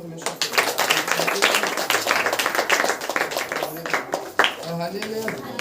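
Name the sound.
congregation clapping for God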